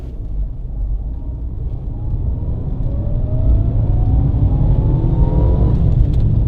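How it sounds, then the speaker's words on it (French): On a road test, the small 1.2-litre engine of a Fiat 500 accelerates from inside the cabin, its low rumbling drone rising steadily in pitch and loudness as the car gathers speed. "Alors c'est une petite accélération"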